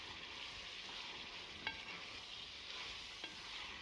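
Chilli powder, coriander powder, coconut and garam masala stirred and frying in a pan for a mutton curry with amaranth leaves, a steady close sizzle with two brief scrapes of the spoon, no talking.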